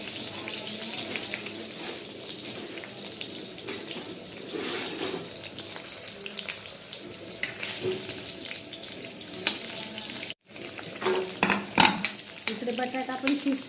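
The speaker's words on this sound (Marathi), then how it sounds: "बटाटा फ्राय करून घेते कारण बटाटा कच्चा आहे" Raw potato pieces frying in oil in a home kitchen, with a steady close sizzle and occasional stirring scrapes, a brief break, then a few louder clatters and bubbling bursts.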